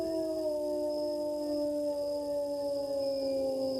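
A man on a sports radio talk show imitates a wolf howl with his voice, holding one long, loud, steady wavering tone alone for several seconds.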